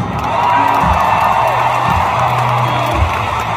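A large crowd at a concert roars and cheers continuously, dense and loud, with a steady low musical thrum underneath.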